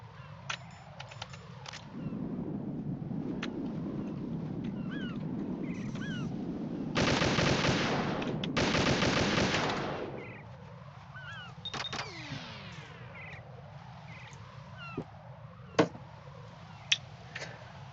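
Gunfire in the Metal Gear Solid 2 video game, a sustained burst of rapid automatic shots in the middle, set against a low mechanical drone with scattered sharp clicks and single reports before and after.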